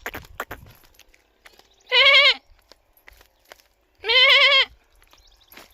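Two loud, harmonic goat bleats out in a forest, each lasting about half a second and spaced roughly two seconds apart, with faint rustling and scattered clicks between them.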